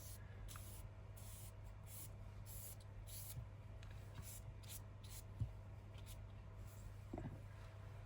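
Short bursts from a spray bottle mist onto junk journal paper, several soft hissing puffs in an irregular rhythm over a steady low hum, with no talking.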